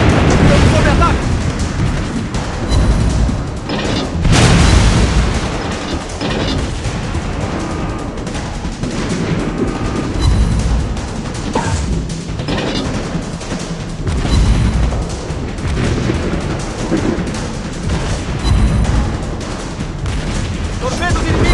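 Naval gunfire and explosions in the World of Warships video game: dense, continuous booming salvos and blasts, loud throughout, with recurring heavier bursts over a busy battle soundscape.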